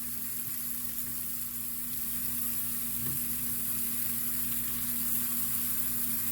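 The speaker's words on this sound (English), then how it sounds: "Same time melting butter for mushroom onion." Butter melting in a pan for mushrooms and onion, giving a steady, even hiss of sizzling that holds without pause, close up with a constant low hum beneath and no talking.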